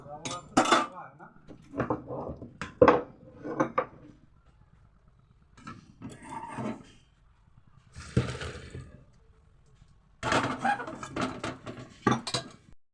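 A pot of boiled new potatoes is lifted off the stove with several loud metallic clanks and scrapes of cookware, in bursts separated by quiet pauses.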